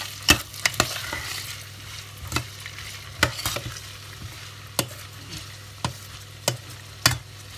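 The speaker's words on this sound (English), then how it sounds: "after you have allowed the carrot and the gizzard to fry about 4 to 5 minutes or 3 minutes" Carrot and gizzard frying in a pan for Nigerian fried rice, giving a continuous sizzle broken by sharp scraping knocks as a utensil stirs them, the stirs coming every second or so and recorded close with no talking.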